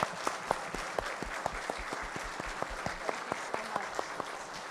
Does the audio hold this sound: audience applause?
yes